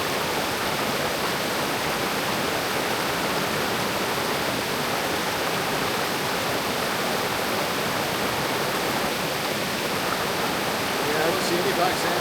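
Water rushing steadily in a remote mountain creek where gold panning takes place, a constant loud broadband flow with no breaks, heard close up and alone.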